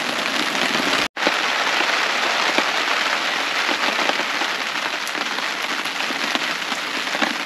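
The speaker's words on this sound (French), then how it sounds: "C'est plate quand il pleut" Steady rain drums on a camping trailer in the woods during a storm, a dense even patter that fills the whole clip apart from one brief dropout, with no talk.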